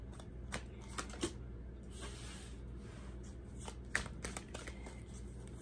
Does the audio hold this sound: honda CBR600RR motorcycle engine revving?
no